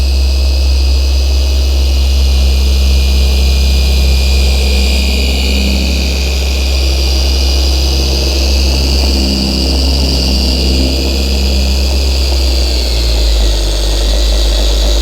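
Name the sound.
Zentool 21E2 polishing machine running on Mazda car bonnet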